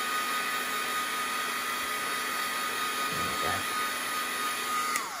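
A heat tool runs steadily while drying a die-cut craft card, a continuous broadband whirring hum that stays loud and even throughout, with a faint rustle partway through.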